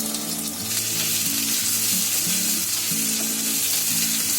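Finely chopped onion and green chillies sizzle steadily in hot oil in a pan, a continuous bright frying hiss with low bubbling underneath, close and even throughout with no talking.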